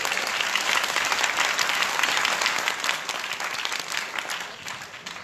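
An audience applauds steadily throughout a talk on a water purifier brand, a full, even wash of clapping that eases off slightly toward the end.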